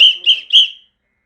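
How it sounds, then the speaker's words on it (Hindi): A small emergency whistle for tunnel safety is blown in three quick, shrill, close blasts, then stops. "वरना एक छोटी सी सीटी अपने पास रखनी है।"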